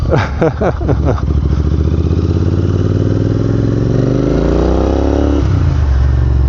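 A Royal Enfield INT650 motorcycle with a loud exhaust and no silencers crackles and pops sharply, then settles into a heavy, rumbling idle that rises briefly as the engine revs, very close, outdoors in sub-zero cold.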